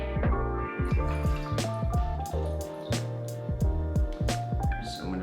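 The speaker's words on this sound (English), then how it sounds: "I'm gonna use this stainless steel funnel just so it doesn't drip everywhere" Homemade bone broth pours through a stainless steel funnel into a glass jar, with repeated glugging splashes and dripping, close and fairly loud.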